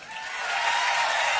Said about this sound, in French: Ce soir, on veut un tonnerre d'applaudissements.